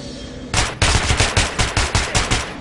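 Automatic gunfire on a shooting range in the video game Metro Last Light: a loud, close burst of about nine evenly spaced shots in quick rhythm, each with a sharp crack and short decay, no talking.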